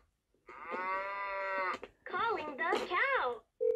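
A cow moos from a phone, one long, close, steady call followed by shorter wavering sounds, with a brief voice at the very end.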